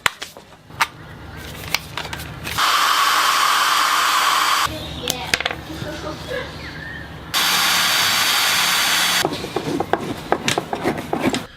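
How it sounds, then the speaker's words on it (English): A power drill whirs in two steady bursts of several seconds each, grinding loudly up close through plastic, with scattered clicks and knocks between them. "just drill straight down, and then what I'm going to do is I'm going to mark this same area"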